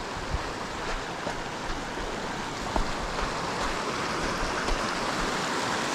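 Mill Creek rushes along a mountain hiking trail with a steady, broad hiss of flowing water close by. A few faint knocks and steps from hikers crossing come through, and nobody speaks.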